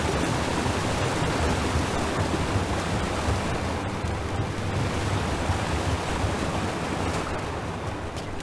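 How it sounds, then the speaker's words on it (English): Waterfalls in the video game Dragon Age: The Veilguard send out a steady, broad rushing roar, continuous and fairly loud without a break. "Look at those waterfalls."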